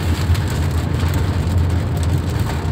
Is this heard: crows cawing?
no